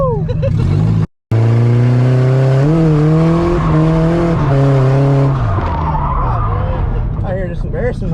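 A Nissan S14 drifts with loud, sustained tire squeal and skidding over a revving engine, the screech rising and falling in long sweeps, broken by a brief dropout near the start.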